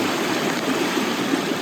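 Creek water rushes steadily beside the ruins of an old mill, a loud, close, continuous flow with no voices.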